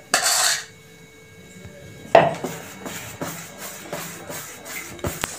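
Dosa batter of ground soaked rice, raw coconut and poha is mixed in a bowl: a rough scraping swirl at first, then a run of soft wet strokes and light knocks of the utensil against the bowl, with no voices.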